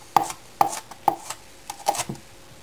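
A knife chops vegetables into small pieces for potato curry, with about five sharp, separate thuds on a cutting board in an irregular rhythm, close and clear in a quiet kitchen.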